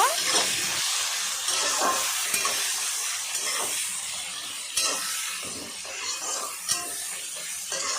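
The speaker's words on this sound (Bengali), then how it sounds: "পেঁয়াজ লাল করে ভেজে নেব" Chopped onions frying in a pan for a spicy rohu fish curry, a steady hissing sizzle with occasional stirring scrapes and soft pops, close and continuous.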